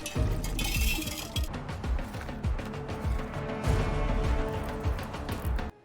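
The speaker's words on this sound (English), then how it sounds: "Doing the ice cubes, yeah." Ice cubes clink in a glass in a quick, steady run of bright little knocks, close by and fairly quiet, lasting several seconds.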